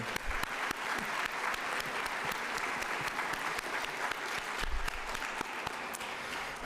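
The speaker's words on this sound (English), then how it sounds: "A round of applause for NOSM University's third Convocation ceremony." Applause from the audience at a university convocation ceremony in Sudbury, a dense, steady round of clapping from a large crowd that holds evenly throughout.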